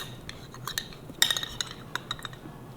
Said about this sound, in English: You ever seen a spoon like this? It's for this, to where the liquid drains out.